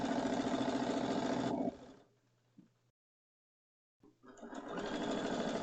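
Sewing machine stitching a pillow, a loud steady motor whir for about a second and a half that winds down and stops, then starts up again after a short silence.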